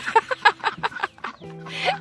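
Two young ducks, likely hens, come down a duck slide in a backyard, giving a few short, close quacking calls in an uneven rhythm, with some faint background sound in between.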